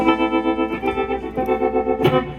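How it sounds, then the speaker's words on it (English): Electric guitar chords with a pulsing tremolo, the volume throbbing up and down in a steady, rapid rhythm. "And some tremolo."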